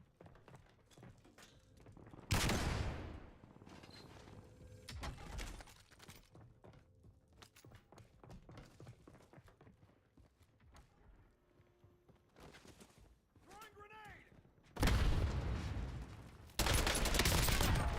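Gunfire from an AK rifle in the Call of Duty Warzone battle royale game, with loud bursts near 2.5 s and from about 15 s to the end, plus scattered quieter game sounds between.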